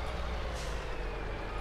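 A truck pulls in within Farming Simulator 22, its heavy engine rumbling low and loud, with a brief air-brake hiss partway through and no voices.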